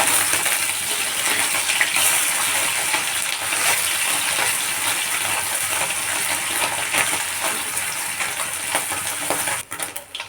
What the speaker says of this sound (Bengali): এবার আমি মাছগুলো উল্টে দিচ্ছি।